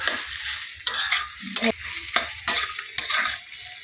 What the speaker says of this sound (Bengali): এবার একটু গ্যাসটা বাড়িয়ে দিয়ে আলুটা ভালো করে বন্ধুরা মিশিয়ে নিতে হবে